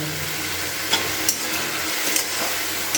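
Spices and turmeric being stirred in a hot pan for a paneer and broccoli curry, with a steady close sizzle and a few sharp scraping clicks from the spoon, no voices.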